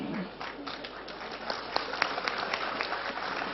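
Audience applause at a talk: a steady patter of many hands clapping at moderate, slightly distant volume, with no voice over it.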